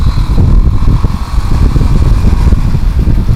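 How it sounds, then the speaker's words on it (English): Motorcycle engine revving at high RPM while lane splitting in traffic, a steady loud close-up drone with small swells as the throttle changes, plus wind and road rumble throughout. "if you can hear my engine, you'll notice that sometimes I downshift and run at a higher RPM than usual"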